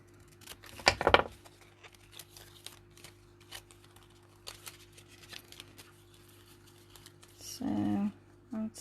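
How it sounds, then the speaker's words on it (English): Scissors trim with a sharp double snip near the start, then faint scattered clicks and snips, ending with a short buzzy burst, all quiet and close. "then I'll start trimming"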